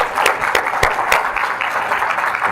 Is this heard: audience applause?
yes